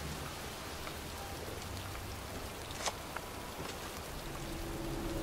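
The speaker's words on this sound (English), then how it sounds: "It's cold. It's raining." Steady rain falling in the video game Heavy Rain, a constant hiss of drops on surfaces with a couple of brief louder patters, no voices.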